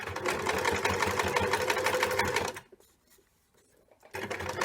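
A sewing machine stitches strips of scrap paper in a fast, steady close whir that stops abruptly for about a second and a half, then starts up again.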